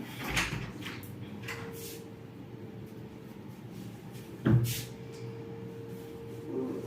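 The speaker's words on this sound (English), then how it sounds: "I'm gonna go ahead and open the door so some of the smoke goes out." A door is opened in a quiet, smoky room, a single brief clunk halfway through amid soft low room noise and a few faint handling sounds.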